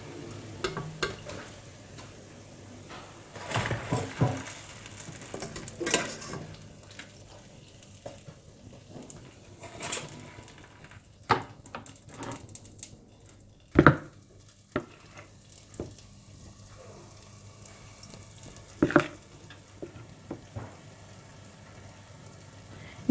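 Lentil dumplings for dahi baray frying in hot oil, a steady low sizzle with stirring and occasional sharp utensil clicks and knocks, close by and fairly quiet.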